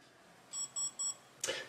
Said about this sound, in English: that'll do a periodic beep just to remind me to close that door